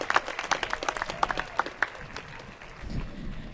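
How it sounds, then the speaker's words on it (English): Audience at a college commencement ceremony applauding, a brief burst of scattered claps that thins out and fades, with a low murmur near the end. "that in itself deserves a round of applause"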